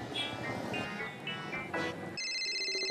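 A mobile phone ringtone starts partway through, playing a bright, repeating electronic tune alone and clearly after a stretch of mixed background sound in a domestic drama scene.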